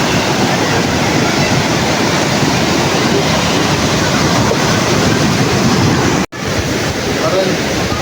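Rough sea with heavy, continuous surf washing in loud and close, broad roaring noise with no voices, briefly cutting out near the end.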